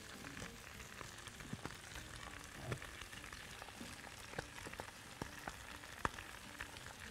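Meat cubes sautéing in a pan, heard as a faint, steady sizzle and crackle with scattered small pops and clinks throughout, no talking.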